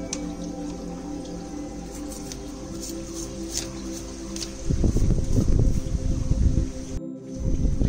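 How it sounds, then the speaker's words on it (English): Water rinsing grime off a bicycle drivetrain, chain and sprockets: a soft steady hiss gives way to louder, close splashing and spattering, then breaks off briefly before resuming. "just use some water, clean it well, remove all visible grime that you see"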